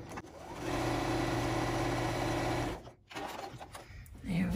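A sewing machine hums and whirs steadily for a few seconds while stitching, then stops abruptly, followed by soft handling noises.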